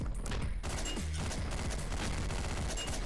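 Gunfire from the video game Hotline Miami: dense, rapid bursts of shots blend into a continuous loud barrage, with no talking over it.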